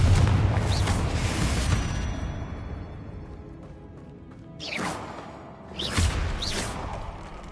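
Confringo and Bombarda explosive spells cast in Hogwarts Legacy, heavy booming blasts with whooshing bursts: a loud opening explosion that decays, then two more blasts a second or so apart, each with a sweeping swoosh.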